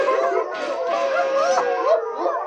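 Dogs in a 1980s French-dubbed cartoon howl together in overlapping, wavering cries that rise and fall, loud and close, with no talk over them.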